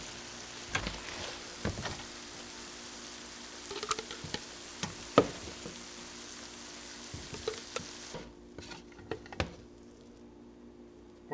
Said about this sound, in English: now we'll let this simmer probably about 3-4 minutes until that wine reduces by half